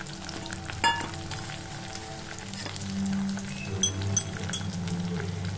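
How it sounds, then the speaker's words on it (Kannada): Rough ginger-garlic paste sizzles and fries steadily in hot oil for rasam, a close, continuous crackling hiss with a few light clinks of a utensil against the pan. "ಇದು ಸ್ವಲ್ಪ ಆಯಿಲಲ್ಲಿ ಫ್ರೈ ಆಗಲಿ"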